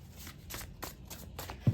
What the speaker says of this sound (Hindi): let me shuffle the cards